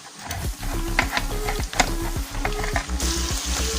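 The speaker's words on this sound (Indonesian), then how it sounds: "Kita bisa tumis bawang merah dan bawang putih ini sampai wanginya tercium dan juga kering ya" Shallot and garlic paste sautés in a pan for Javanese fried noodles, a close sizzle broken by rapid rhythmic scraping and clacking of a spatula against the pan, with no voices.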